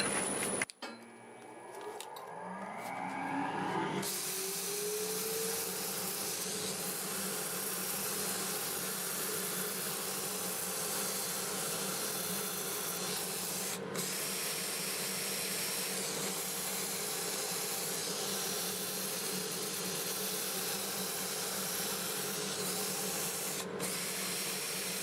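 Olive wood being sanded on a lathe spinning in reverse at roughly 280 to 300 rpm, with a dust intake running: a steady, loud broadband whir and hiss that holds evenly from start to finish.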